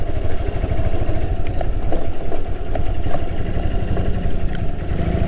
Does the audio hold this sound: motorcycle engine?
yes